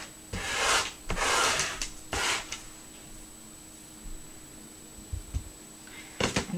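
A scraper working a bubble bath bar mixture, giving several short dry scraping rubs in uneven bursts, close up and fairly quiet, with pauses between them.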